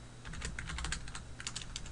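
Quick, light keyboard typing, a steady run of soft clicks close by with a brief pause in the middle, no voices.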